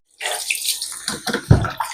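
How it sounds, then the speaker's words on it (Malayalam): A glass of rice being washed in water, with sloshing and splashing in a vessel, several irregular swishes and a louder splash near the end, close and alone. "ഒരു ഗ്ലാസ് അരി എടുത്തിട്ടുണ്ട് അപ്പൊ നമുക്കിനി ഇതൊന്ന് വാഷ് ചെയ്തെടുക്കാം"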